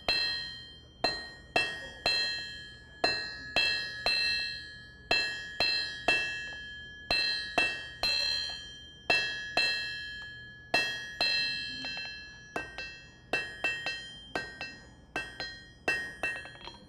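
A blacksmith draws out metal with a smaller hammer, ringing strikes in a steady rhythm of about one per second, each with a bright metallic ring that decays before the next, sometimes coming as quick double taps.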